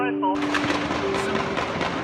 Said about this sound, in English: the chaos and horrific scene that unfolds as the gunshots start exploding